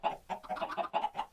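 Minecraft chickens cluck in a quick series of short, clipped clucks in an even rhythm, close and clear with no talk.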